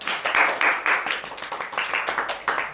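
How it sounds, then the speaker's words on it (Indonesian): An audience clapping for a guest introduced at a student talk show, a modest burst of hand claps in uneven rhythm that rises and falls across the whole stretch, fairly close. "Tepuk tangan."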